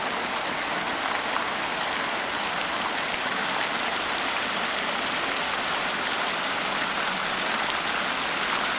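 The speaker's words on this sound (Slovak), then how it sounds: "No neviem, či ma bude cez tú vodu počuť." Steady running water from a fountain or stream in an indoor foyer, a dense continuous wash that stays loud and even throughout with no pauses.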